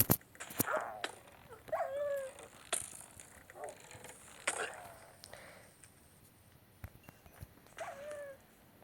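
A few scattered dog barks and yelps in Minecraft at moderate volume, separated by quieter stretches with clicks and faint background noise.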